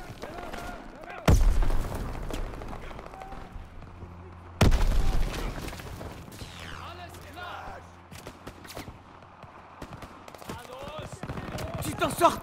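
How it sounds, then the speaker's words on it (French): Sharp gunshots crack out, two loud blasts and scattered fainter pops, amid quiet ambience and occasional soft voices. "J'entends des coups de feu."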